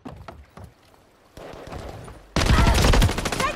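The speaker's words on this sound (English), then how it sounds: "Taking effective fire!" Video game gunfire on a night map, sparse isolated shots at first, then a dense, loud stretch of rapid automatic fire and a fusillade toward the end.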